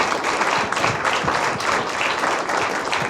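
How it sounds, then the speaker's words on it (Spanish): An audience at a business talk event applauds in an even, sustained burst of clapping, full and moderately loud throughout with no speech on top. "Un aplauso."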